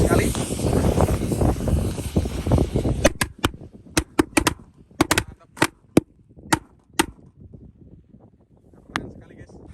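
Indonesian jumbo firecrackers and a 25-shot roman candle set in the ground, first a loud continuous roar, then a string of sharp separate bangs at irregular spacing that grow sparser toward the end.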